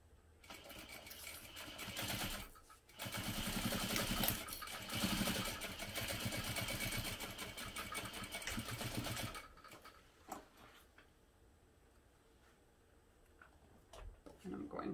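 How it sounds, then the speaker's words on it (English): A home sewing machine stitches a pocket seam in one long, fast, rhythmic whirr, stops, and is followed by soft handling noises and quiet clicks. "I'm going to sew this together using a 1/2 inch seam allowance"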